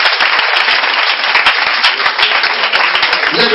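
A church congregation at the Péniel centre bursts into dense, sustained clapping and applause, loud and steady throughout, with a few scattered voices mixed into the crowd noise.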